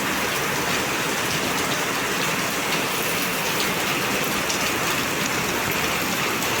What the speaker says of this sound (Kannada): ಈ ರೀತಿ ಮಳೆ ಫಾಸ್ಟ್ ಐತೆ ನೋಡ್ರಿ